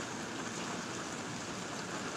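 Steady rain falls in an outdoor park, a constant dense hiss that stays even and close for the whole stretch, with no voices over it.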